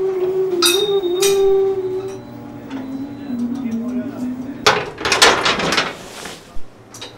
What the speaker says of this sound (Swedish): Så vi får skruva lite bultar så vi får en lite lägre.